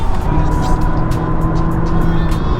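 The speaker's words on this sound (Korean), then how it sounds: "소리도 그냥 우리가 생각하는 사기통 엔진 소리에 훨씬 가깝습니다" A Honda Accord four-cylinder turbocharged engine hums steadily at cruising speed, around 90 km/h at 2000 rpm in seventh gear, with a slight shift in pitch as it downshifts, under constant road and cabin noise.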